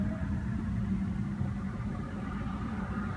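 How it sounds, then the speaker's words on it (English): A BMW M6 Gran Coupe idles steadily after start-up, a continuous low engine rumble with no clear crank or rev flare, moderately loud and alone throughout. "Now let's jump into the driver's seat, start it up and see how it sounds."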